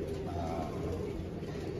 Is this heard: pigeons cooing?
yes